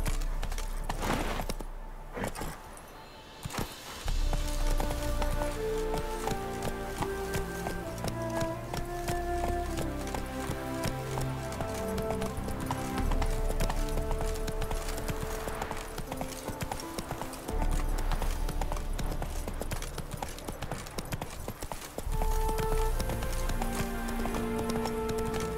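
A horse gallops in The Witcher 3, its hooves beating a fast, steady clip-clop in the foreground over game music and ambience, with a few short pauses. There is no talk.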